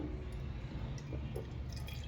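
Water is poured off the top of semolina that has settled in a pot, giving a faint, steady trickle with a few soft drips.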